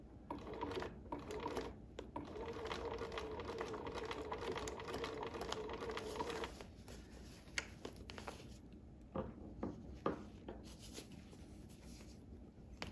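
Sewing machine doing a slow blind stitch on turned-under applique, a steady quiet motor whir for several seconds, then intermittent short bursts and clicks, close and faint with no talking.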